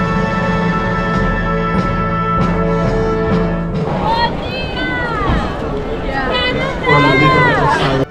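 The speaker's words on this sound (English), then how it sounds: "the crowd got bigger" Dense crowd of World Youth Day pilgrims gathered at an outdoor site, a steady hubbub of many overlapping voices and chatter, with occasional shouts and singing rising near the end.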